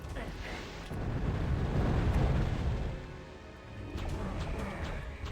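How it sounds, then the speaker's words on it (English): Rumbling explosions in a fantasy video game swell into a heavy low roar, ease off and then return as a steadier rumble with faint crackles, fairly quiet overall. "I'm gonna stand here until the fucking explosions stop"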